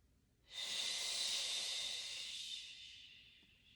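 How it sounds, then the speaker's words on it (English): A single big inhale taken while holding a piriformis stretch with one foot flat against a wall: a close, airy breath that swells in quickly, holds steady and then trails off slowly, with no talking over it. "Big inhale."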